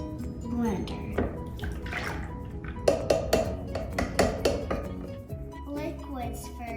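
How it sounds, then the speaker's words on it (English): Coconut milk is poured and utensils clink against a big blender and dishes in a home kitchen, with scattered sharp knocks and rattles, a denser burst of clinks in the middle, and people talking throughout. "we're going to be putting in coconut milk into the blender."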